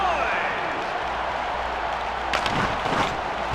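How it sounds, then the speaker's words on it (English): Arena crowd in the NHL 2K10 hockey game on PS2 roaring before the opening face-off, a dense steady wash of cheering and noise that fills the whole clip with a few brief sharper bursts near the end. "how loud is this crowd?"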